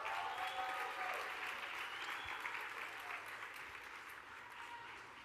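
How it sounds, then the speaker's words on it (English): An audience at a leadership panel applauds the panelists as they take the stage, a fairly faint, dense spread of clapping that slowly tapers off. "Give these guys a round of applause."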